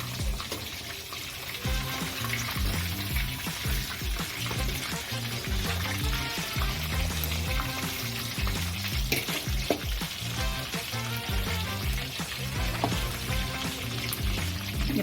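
Chicken kebab pieces frying in a pan give a soft, continuous sizzle with occasional crackles. Gentle background music plays steadily underneath.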